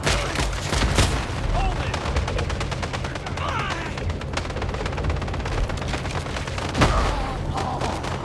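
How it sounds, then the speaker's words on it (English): Minigun fire in the video game Phantom Fury, a continuous rapid roar of shots with booming impacts, steady and loud throughout. "am I gonna keep hearing the fucking minigun?"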